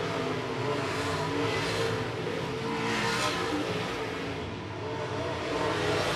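Late model race cars thunder around the I-76 Speedway oval, a dense continuous engine roar with rising and fading swells as the pack runs the low groove through the turns.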